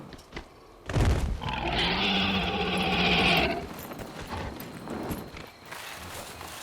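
A horse gallops in the video game Dragon Age Inquisition. A loud, close burst of hoofbeats and effort sounds runs for a few seconds, then trails into quieter clip-clopping and game ambience.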